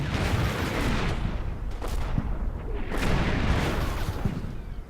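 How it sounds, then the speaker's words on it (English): Artillery fire from small howitzers or medium mortars in the Combat Mission Final Blitzkrieg video game, a continuous rumbling barrage of overlapping booms and blasts, loud and steady, with no voices. "he's got either like small howitzers or medium mortars leaning on me right here"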